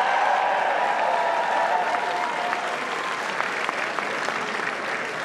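Large crowd applauding Republicans at Terry McAuliffe's 2013 election victory night, a dense, steady roar of clapping and cheering that holds loud throughout.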